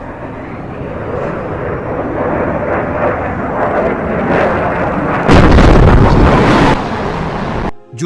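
A huge roaring rumble over Jodhpur, a sonic boom sound effect: a broad, loud whooshing roar builds steadily, surges into a sharp blast near the end, then drops away abruptly.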